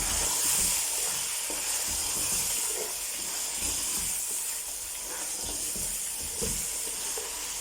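Chicken sizzles and hisses in a pot as it is stirred for chicken and mattar pulao, a steady close frying crackle with soft scraping strokes and no talking.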